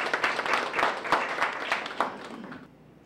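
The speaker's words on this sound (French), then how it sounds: "Applaudissez s'il vous plaît." Audience applause at a public ceremony, a crowd clapping in dense irregular bursts for several seconds before fading out and stopping near the end.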